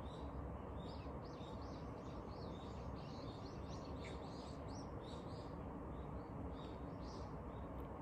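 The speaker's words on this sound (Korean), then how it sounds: "새가 지저귀네." Morning birds chirp and tweet faintly in scattered bursts over a steady hiss of background noise.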